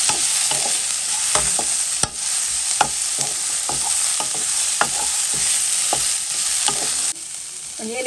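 Onions frying in a pan for a goat lung curry, with a loud, continuous sizzle broken by frequent ladle scrapes and taps against the pan as they are stirred, no speech.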